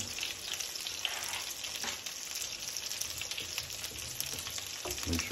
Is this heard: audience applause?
no